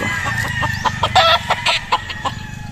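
Young roosters (stags) from a fresh harvest cluck and squawk close by in a series of sharp, rhythmic calls over a low background hum, with no talk.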